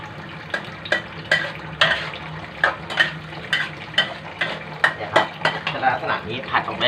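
A utensil scrapes and clanks against a pan while nam prik ong, a northern Thai chili paste with pork and tomato, is stir-fried, giving repeated sharp metallic knocks in an uneven rhythm over a soft sizzle.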